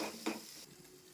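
Ginger paste fries in a pan with a soft, low sizzle and a brief scrape of stirring, close but quiet.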